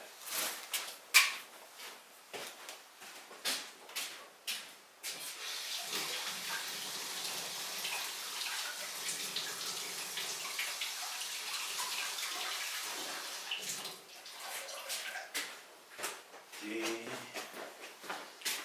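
Tap water running steadily into a sink while a paintbrush is washed out at a pottery decorating bench, a continuous splashing rush in the middle, framed by clicks, handling noises and a person talking.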